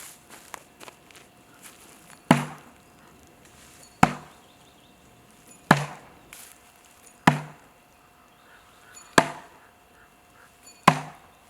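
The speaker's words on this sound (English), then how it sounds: "The way this impacts that wood is just intense." An AceJet Viper throwing knife strikes a wooden target six times at a steady pace, each impact a sharp, loud thunk with a brief ringing tail, separated by quiet gaps.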